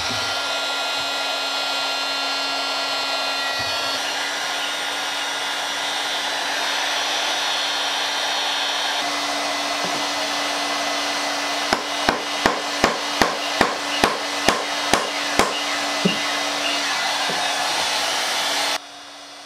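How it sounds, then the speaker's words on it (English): A heat gun blows a steady loud whooshing roar while warming a joint on a vintage wooden barrel chair, then about ten sharp evenly spaced knocks ring out, as if the joint is being struck, before the gun cuts off. "We're going to hit it with some heat from our heat gun and then see if we can pull it apart"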